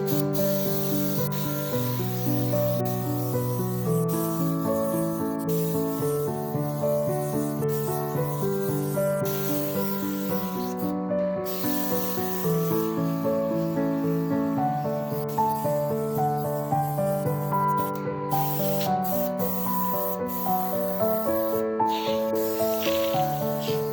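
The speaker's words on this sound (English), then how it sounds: "Apply stencil 2, masking stencil again and brush the background." An airbrush hisses steadily as it sprays paint over a masking stencil on a classic car design, a soft continuous spray sitting beneath background music.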